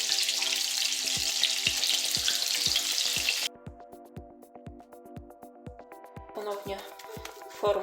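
Cabbage rolls sizzle steadily in a hot pan under a regular ticking pulse; the sizzle drops away midway, then returns softer with some clattering.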